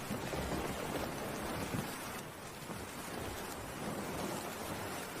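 A cartoon storm in a Thakumar Jhuli Bengali animation: steady, dense rain hiss fills the scene with low thunder rumbling underneath, continuous and fairly even throughout.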